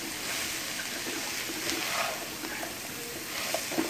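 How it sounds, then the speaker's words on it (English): Homemade southern country fried potatoes with onions sizzle in oil in a pan, a steady close hiss and crackle with occasional soft stirring pops throughout. "we're going to cook out the rest of this oil out of our potatoes"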